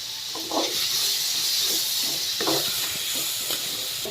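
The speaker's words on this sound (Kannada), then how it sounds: "ಕರಿಬೇವು ಹಾಕ್ತಾ ಇದ್ದೀನಿ, ಫ್ರೆಶ್ ಆಗಿದೆ ಇದು" Fresh curry leaves drop into hot oil while frying for a soya chunks curry, giving a steady close sizzling hiss with short crackling bursts, and no one speaks.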